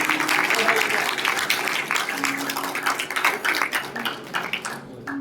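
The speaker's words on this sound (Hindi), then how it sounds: "जोरदार तालियां इनके लिए।" Enthusiastic applause from a crowd at a Hindu devotional evening, many hands clapping in a dense patter that gradually thins out and fades toward the end.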